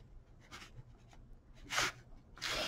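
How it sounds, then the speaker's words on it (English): Pen or pencil writing by hand on paper, quiet close scratchy strokes in short bursts, with a few firmer scribbles toward the end and no talking. "I probably would go ahead and write it like this"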